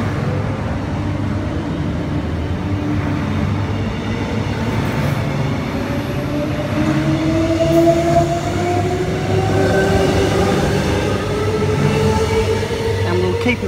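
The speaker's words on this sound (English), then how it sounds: "here we have EMU 76 and EMU 18 now departing from all stations to Brisbane City and Ipswich." EMU electric trains pull out of Lawnton Station, near and loud, with a steady rumble of wheels on track and a rising whine of traction motors as they accelerate away.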